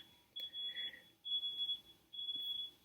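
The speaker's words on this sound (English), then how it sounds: "Fire alarm." A fire alarm sounds in three long, shrill beeping bursts, steady and fairly clear against a quiet background with no talking.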